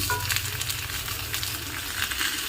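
Fish fries inside a banana leaf in a pan, making a loud, steady crackling sizzle with small pops, close and uninterrupted by talk.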